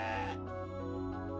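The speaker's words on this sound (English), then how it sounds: "Neutral goat noises." A goat in the video game CrossCode gives one short, clear bleat, tonal and wavering, followed by a low steady hum beneath it.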